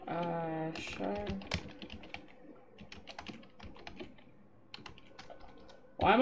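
Computer keyboard typing during a livestream of the shark game Maneater, clustered bursts of quick clicks at moderate level with a voice speaking over the start and game sounds underneath.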